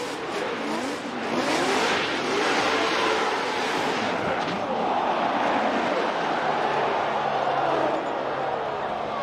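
Formula Drift pro cars racing at Long Beach, engines revving hard and wailing as they slide through the turns, loud and sustained, tires screeching, with crowd noise underneath.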